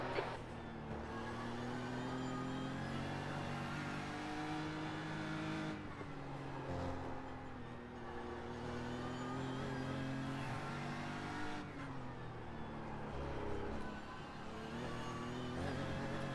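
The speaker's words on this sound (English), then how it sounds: "That farting noise that the car makes when the traction control is about to try and kill you." A GT race car in practice for the Nurburgring 24 Hours drones and revs continuously from onboard, with brief breaks where the traction control cuts in with a sputtering, farting sound, fairly quiet overall.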